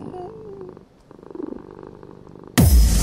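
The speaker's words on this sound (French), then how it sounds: "Mon petit chat." A cat purrs in a low, rhythmic rumble, close and soft, before a sudden loud burst of broadband noise cuts in at the end.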